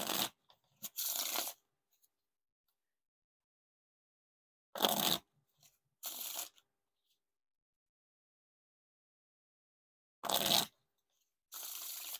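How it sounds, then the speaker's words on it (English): Bicycle Vintage Christmas playing cards are riffle shuffled in several quick, crisp bursts of fluttering card edges, close and clear, separated by stretches of silence. "now time for the riffle shuffle or bridge shuffle."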